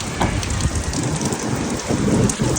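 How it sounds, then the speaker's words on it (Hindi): A downpour drums steadily on the street outside, a thick continuous hiss that swells slightly toward the end, with no voices over it. "लो देखो पूरा बारिश हो रही है"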